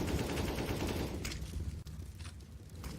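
Rapid automatic rifle fire from an AK during a professional Counter-Strike match on the Vertigo map, a dense burst of loud gunshots that fades into quieter shots and clatter.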